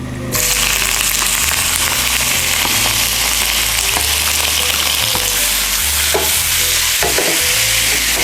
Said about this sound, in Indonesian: Kita lanjut panaskan sedikit minyak. Kita biarkan sampai minyaknya benar-benar panas. Dan kita akan pensir sebentar cumi-cuminya.